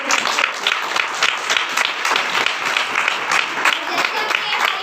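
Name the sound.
congregation applause at a Sunday church service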